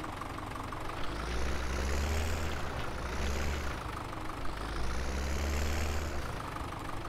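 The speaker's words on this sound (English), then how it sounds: "But wow, this is a fast tractor." A Kubota tractor engine in the Farming Simulator 17 video game, a continuous loud low rumble that swells and eases in slow cycles as the revs rise and fall, with no voices.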